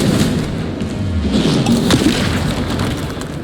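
Repeated spell explosions from the Hogwarts Legacy video game, loud booming thuds and crashes rolling one into another in a dense, continuous barrage with no pause.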